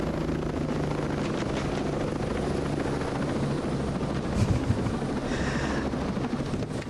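A helicopter in the video game Ghost Recon Breakpoint, a loud, close, continuous rotor and engine roar that holds steady throughout with a brief swell in the middle, no talk over it.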